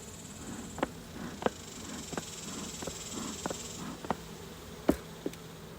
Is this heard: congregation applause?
no